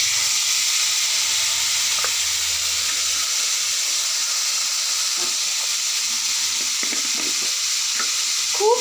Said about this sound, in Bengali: এবার আমি একটু ধনের গুঁড়ো, মানে একটু জলে গুলে দিচ্ছি ধনের গুঁড়ো।